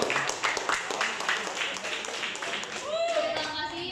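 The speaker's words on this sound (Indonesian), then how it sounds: "Kita beri aplaus dulu untuk kelompok 5." A classroom audience claps for a presenting student group, a brisk patter of many hands with voices of children and adults talking over it.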